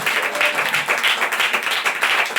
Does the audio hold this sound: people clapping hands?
yes